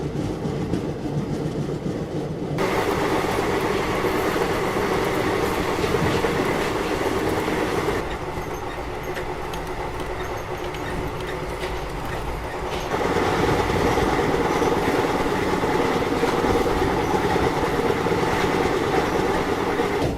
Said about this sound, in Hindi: जैसे ही बाहर आया वैसे ही ट्रेन का डिपार्चर जो है वो हो गया